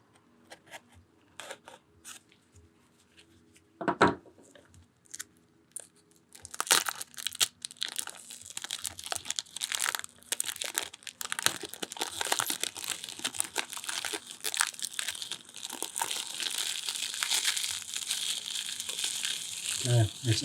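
Packaging for a Vaporesso Luxe Q pod vape kit crinkles and rustles as it is unboxed, a quiet start with a sharp tear, then sustained close crackling and rustling of paper and plastic.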